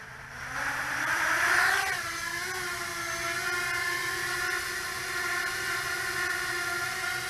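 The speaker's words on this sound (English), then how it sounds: "here we go with the hover test of the Eachine Tyro119" Eachine Tyro119 quadcopter motors during a hover test, a steady high whine that rises in pitch as throttle increases over the first two seconds, then holds an even, sustained buzzing tone close by with no talking.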